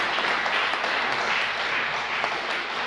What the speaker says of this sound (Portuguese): Você pode dar uma salva de palmas, querido?